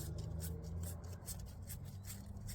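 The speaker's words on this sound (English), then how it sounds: "take a piece of sandpaper and run it along the inside of the fitting" Sandpaper rubbing steadily around the inside of a copper pipe fitting while preparing a moonshine still for soldering, a close, continuous rasping scrape with rhythmic pulses of the strokes.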